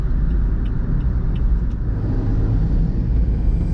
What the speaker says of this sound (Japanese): In other words, motorcycles are coming from all sides,